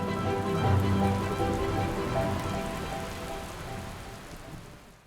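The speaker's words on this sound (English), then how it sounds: "it is quite a bit of rain coming down" Heavy simulated rain pours steadily inside an indoor test chamber, a dense continuous hiss and patter of water striking surfaces that stays loud throughout and eases slightly toward the end, with no voices.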